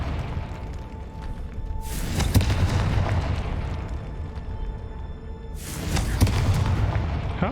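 Spell explosions from the Hogwarts Legacy video game, two loud booming blasts a few seconds apart, each a sudden burst over a constant rumbling game background, with no talk.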